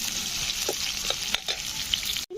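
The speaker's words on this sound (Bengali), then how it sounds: "তো পেঁয়াজগুলো দিয়েও কিন্তু একটু লাল লাল করে ভেজে নিতে হবে" Onions fry in hot oil in a pan, giving a steady close-up sizzle with occasional soft stirring clicks and pops, then a brief drop to near silence at the very end.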